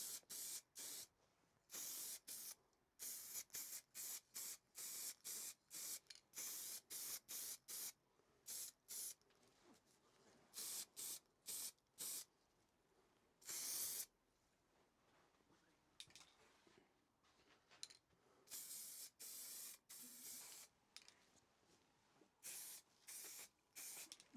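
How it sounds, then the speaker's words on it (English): Autotech etching primer sprayed from a shaken aerosol can onto the radiator cowling of a 1977 Austin Mini 1000, in a long run of short, loud hissing bursts with brief gaps, then a few longer sprays. "Autotech etching primer. I've used that stuff for years"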